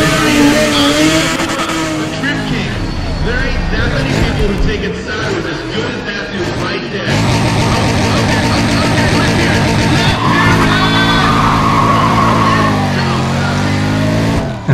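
A car drifting in Need for Speed ProStreet, the engine revving hard and continuously with tire noise throughout, loud and close, shifting in pitch partway through.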